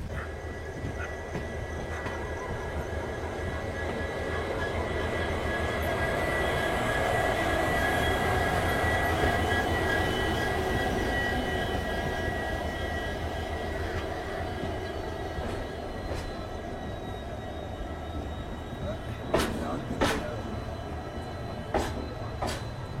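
Hubballi–Yeshwantpur superfast express (16580) pulling into Yeshwantpur station: a steady, loud rolling rumble of wheels and carriages with sustained tonal whines, then several sharp squeals or clanks near the end.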